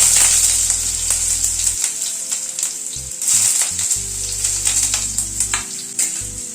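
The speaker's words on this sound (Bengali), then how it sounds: "প্রথমে আলুটাকে একটুখানি ভেজে নিলাম, মিনিট খানেক একটু নাড়াচাড়া করে নিলাম।" Potatoes fry in hot oil in a pan, a bright continuous sizzle with occasional scraping and clinks as they are stirred, close and loud with a low hum coming and going underneath.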